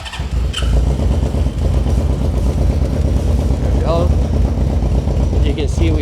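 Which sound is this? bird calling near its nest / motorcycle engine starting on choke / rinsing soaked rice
motorcycle engine starting on choke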